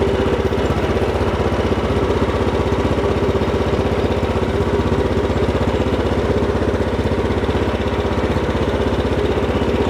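A Craftsman R1000 riding lawn mower engine runs loud and close as the mower drives forward. Its rapid, even chugging hum holds steady throughout, with no voices.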